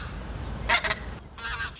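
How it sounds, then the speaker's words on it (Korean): Migratory geese honking in Gimpo, two short bursts of calls and then a longer honking passage, moderately near over a low outdoor rumble. "철새가 봄, 가을에 막 날아다닙니다"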